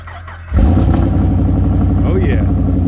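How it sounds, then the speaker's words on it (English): A Holden G8 engine cold-starts on a very cold morning at a dyno shop: a starter whirs briefly, then the engine catches loudly at about half a second and settles into a steady, rumbling idle. "See about that real cold start."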